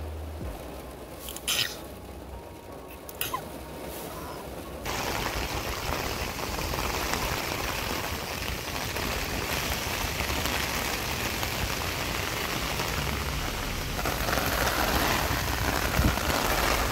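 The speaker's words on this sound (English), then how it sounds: "It's raining!" Steady rain pours onto a parking lot, a dense continuous hiss with a few sharper drops and taps early on, growing fuller and louder after the first few seconds and holding at close range with no voices.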